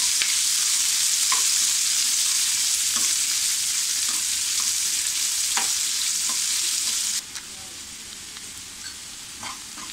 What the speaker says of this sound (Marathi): हे आपण व्यवस्थित असं छान परतून घेऊया. थोडा गुलाबी रंग येईपर्यंत परतायचा आपल्याला कांदा.